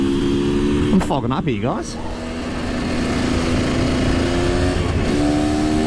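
A KTM EXC 250 two-stroke motard motorcycle rides around a corner, its loud, close engine rising and falling in quick revving sweeps, then settling into a steady buzzing drone while someone talks briefly over it.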